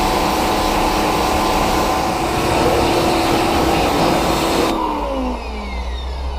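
A pressure washer rinses the engine bay of a Honda Civic EP3 Type R, a loud steady spray with machine drone, the hiss cutting off near the end and leaving a lower hum.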